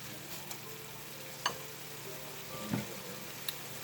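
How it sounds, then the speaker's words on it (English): Kale being mixed into a simmering tomato shakshuka sauce, a quiet continuous sizzle with a couple of soft spoon clinks and scrapes, close but faint, with no talk. "we're going to mix this right in here"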